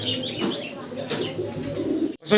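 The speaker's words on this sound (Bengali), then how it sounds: "দর্শক ভিডিও স্ক্রিনে আমরা একজোড়া ব্ল্যাক ড্যানিশ দেখতে পারতেছি" A pair of Black Danish pigeons coo softly at close range with low, repeated rolling calls, and a few faint chirps can be heard.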